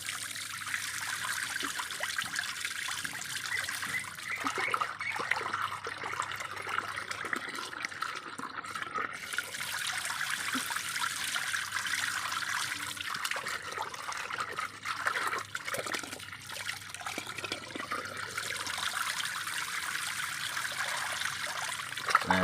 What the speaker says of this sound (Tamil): நல்லா கழுவியாச்சுங்க